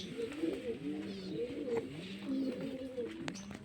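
Domestic pigeons coo in a pigeon house, steady rolling low calls repeating one after another, fairly quiet and close, with no talk.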